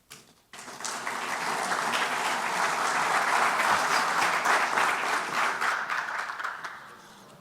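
A conference audience in Costa Rica applauds to welcome an engineer to the stage, the clapping swelling quickly into a full, sustained round that holds steady before starting to thin out.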